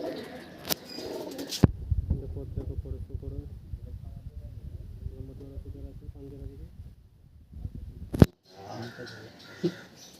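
Pakistani teddy pigeons coo in soft, repeated low-pitched phrases while people talk nearby, with sharp clicks or knocks breaking in near the start and middle.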